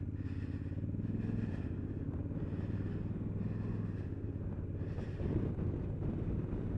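A 2019 Honda Africa Twin DCT motorcycle rides along, engine note climbing and dropping as it shifts quickly through the gears, steady and fairly faint beneath wind buffeting, with no talk.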